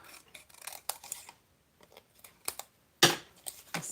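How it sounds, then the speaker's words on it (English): Scissors snipping a small strip of tack, a few short separate cuts with quiet pauses between them and one sharper, louder snip near the end. "So let's just cut another little strip."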